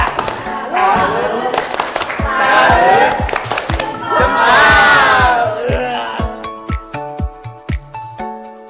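A school class group claps and shouts a cheer in unison, rhythmic group chanting followed by a series of sharp, evenly spaced claps close by.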